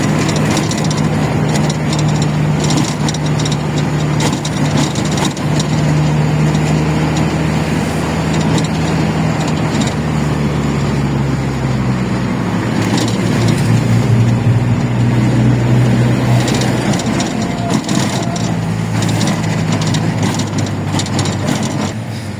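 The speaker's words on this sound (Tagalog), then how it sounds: "Traffic na naman." Heavy road traffic on Quirino in Manila surrounds the listener with a continuous dense rumble of engines, idling and slowly moving vehicles close by, a thick mechanical drone with no talking.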